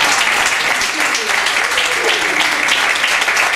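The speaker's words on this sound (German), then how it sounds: "Einen herzlichen Applaus für Frau Kofbinger." Hearty audience applause at a German charity evening, loud and dense clapping from a packed room that keeps going at full strength without a break.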